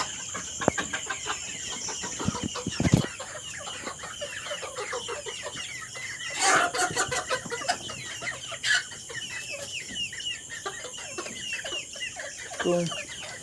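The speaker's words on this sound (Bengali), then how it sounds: "তো একটা মুরগি ধরে নিয়েছি, এই যে দেখতে পাচ্ছেন এই যে মুরগি" A domestic country chicken clucks and squawks in agitated bursts while being caught by hand, with scuffling and a brief louder flurry midway, close and fairly loud, amid outdoor farmyard ambience.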